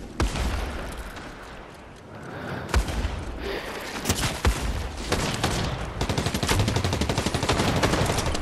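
Rapid automatic gunfire from the video game Fortnite in a Zero Build squads match, dense bursts of shots layered with booms and impacts, loud and continuous throughout with only brief lulls.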